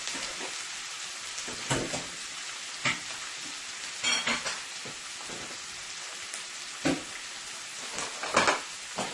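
Shrimp cooking in a pan for a Guyanese shrimp curry, a steady close sizzle with scattered louder crackles and stirring scrapes across the whole stretch, no voices.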